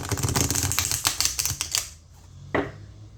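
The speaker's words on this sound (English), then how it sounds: "Riffles back very easily." A quick riffle shuffle of a tarot deck, a rapid run of crisp flutters and snaps, then a pause and one final tap, close and clear.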